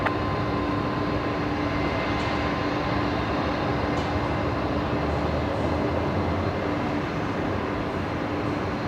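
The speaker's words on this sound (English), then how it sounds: "Link 1868 runway 19 right, cleared for takeoff." A plane takes off from runway 19 right at Brisbane Airport, a loud, steady broadband roar that holds at even strength for the whole stretch with no voices over it.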